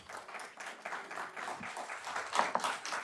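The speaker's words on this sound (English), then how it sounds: "Please refrain from your applause." Crowd applause in a school board business meeting, a steady roll of many hands clapping at moderate distance in a large room, with no talk over it.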